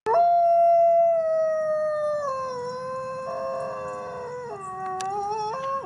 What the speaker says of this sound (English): Here's the gray wolf.